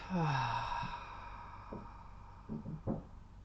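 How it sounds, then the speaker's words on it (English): A long, deep breath out during a guided breathing exercise, a soft airy exhale that starts strong and gently fades, with faint breathy sounds near the end. "and breathing out."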